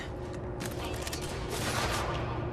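Sniper and other gunfire in the video game Quantum Break crackles in a dense, continuous volley, building louder toward the end with mechanical clatter mixed in.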